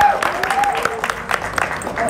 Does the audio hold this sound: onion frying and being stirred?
no